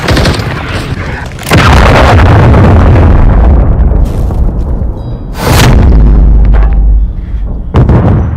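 A cruise missile explodes in a shooter video game, its heavy booming blasts arriving as two massive rumbling explosions with a sharp onset and a long roaring decay, then a third blast cut off at the end.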